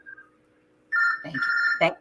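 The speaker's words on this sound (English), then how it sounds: "Grand Sheik's phone." A telephone rings with a steady electronic tone in two bursts, loud and close, broken by a brief voice speaking between them.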